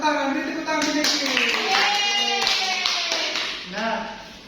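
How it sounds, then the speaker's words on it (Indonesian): Children in a classroom clap for a classmate, a short burst of hand claps mixed with young voices and a teacher's talk throughout, fairly close and moderately loud. "beri tepuk tangan Niki."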